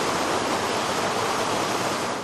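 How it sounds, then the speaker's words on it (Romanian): Flood water gushing loudly and steadily from an overflowing sewer drain during a violent June storm, a dense continuous roar with no pauses. "Pare o fântână, dar dacă te uiți mai bine, îți dai seama că vorbim despre un canal ce a capitulat în fața potopului"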